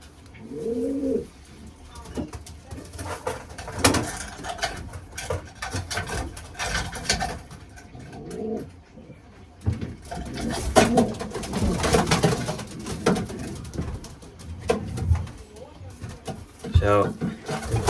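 Racing pigeons coo softly in a loft while they are handled for a race, their low throaty calls recurring under close-up talking along with wooden knocks and rustling.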